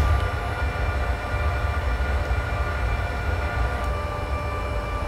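An S-Bahn train from Leipzig toward Bitterfeld runs steadily in the Train Simulator 2020 video game, a constant low rumble with a faint electric whine and rail noise, no voices.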